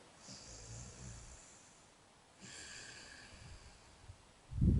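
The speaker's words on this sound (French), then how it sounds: "On va entendre comme un ronflement auprès de la glotte." Ujjayi breathing during yoga practice, a throaty snore-like breath drawn and released through the glottis, heard as two soft, drawn-out breaths close up with a brief louder rustle at the end.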